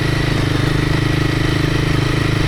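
A Royal Enfield Himalayan 450 motorcycle rides on sandy singletrack, its engine pulsing in a steady, rapid beat that stays loud and close throughout.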